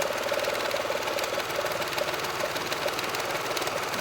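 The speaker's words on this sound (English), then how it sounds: "I'm going to sew it on the blue side where I've marked the quarter inch" A sewing machine runs steadily, stitching a quilt block seam along a marked quarter-inch line at a stitch length just under 2, with a continuous mechanical hum and rapid needle clatter throughout.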